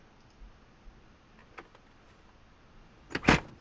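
Aircraft right door shutting in a flight simulator game, a sharp mechanical clunk with a brief rattle, preceded by a few faint clicks in otherwise quiet surroundings.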